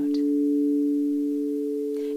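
A crystal singing bowl tuned to 432 Hz sustains a pure, steady tone, loud and continuous throughout, with a faint tap near the start.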